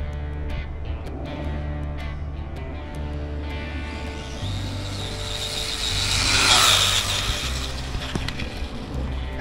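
A DeeRC H16E RC car makes a speed run, its electric motor whining in steady layered tones that climb to a loud rising peak, then ease off and hold, fairly close, with no voices.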